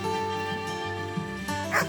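Dogs at a New Zealand guest property yip and whimper softly in short, scattered bursts against a steady background hum.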